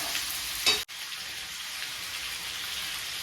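Chicken frying in a pan with salt being stirred in, a steady close sizzle with a brief stirring scrape near the start, no voices.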